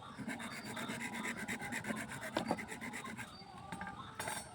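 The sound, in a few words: cutting and scraping a thin bamboo stick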